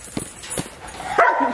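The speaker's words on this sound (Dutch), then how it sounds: "Ja, deze hond doet altijd vuur." A dog gives a few sharp barks close by, two brief yaps spaced apart and then a louder, longer bark-like yelp near the end, with some faint background noise.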